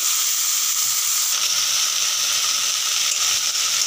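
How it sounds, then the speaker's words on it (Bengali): Boiled figs frying in hot oil give off a loud, continuous hissing sizzle, close up and unbroken, with no talking. "সেদ্ধ করা ডুমুরগুলোকে আমি গরম তেলের মধ্যে দিয়ে ভালো করে ভেজে নিচ্ছি।"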